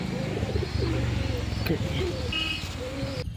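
Domestic pigeons coo in low, repeated notes close by, with faint chirps and background noise around them.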